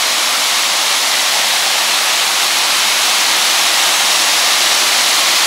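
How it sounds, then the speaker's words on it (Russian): A waterfall beside a humid jungle trail in Indonesia, where water pours from a dam and canal structure. It makes a loud, close, unbroken rushing roar with no variation and no voices. "Вот водопад."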